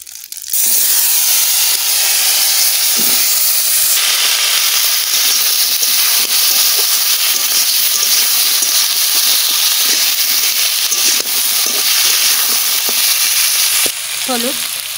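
Bay leaf and whole cumin hitting hot oil, a loud close crackling sizzle that fills the whole stretch with a steady hiss, a few soft utensil knocks and a clink near the end.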